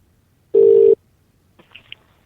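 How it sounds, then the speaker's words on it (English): A telephone call that fails to connect: a steady electronic tone sounds alone for under half a second, then after a pause a few faint, brief beeps and clicks follow. "I tried to phone you and it says could not connect."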